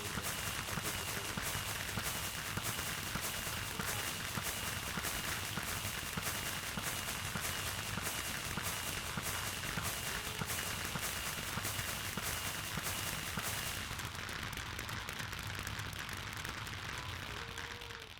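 Fireworks rockets bursting in a blocky survival video game, a dense continuous barrage of crackling explosions that stays loud and steady throughout, easing slightly near the end.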